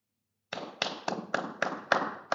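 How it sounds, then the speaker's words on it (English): About seven crisp hand claps during a workout, evenly paced and close, with a brief silence before the first clap. "Give ourselves a clap."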